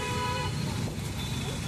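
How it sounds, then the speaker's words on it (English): Busy Bangalore road traffic rumbles close by, with a car horn tooting near the start over the constant din of engines. "Today Saturday and too much of traffic in Bangalore actually."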